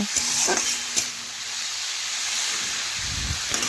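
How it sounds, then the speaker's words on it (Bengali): Sattu mixed with turmeric and salt being dry-fried in a pan, giving a soft continuous sizzle and hiss with a few scraping stirs at the start and end. "আর কিছুক্ষণ আমি একটু শুকনো শুকনো করে ভেজে নেব"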